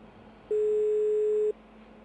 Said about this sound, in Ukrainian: Не відповідає цей телефон.